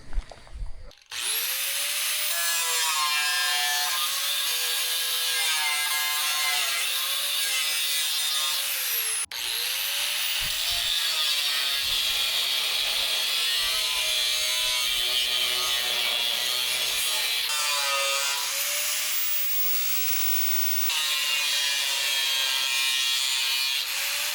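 Loud, sustained power-tool cutting through metal as parts are cut off for welding onto a car, a high whining grind running in long continuous passes with brief pauses between cuts.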